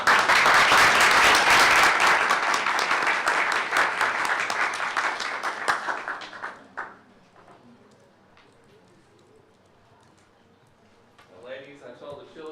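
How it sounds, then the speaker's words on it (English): A crowd applauds loudly and steadily for several seconds, then the clapping thins out and fades, leaving quiet room noise and a brief voice at the end. "Let's give them a round of applause."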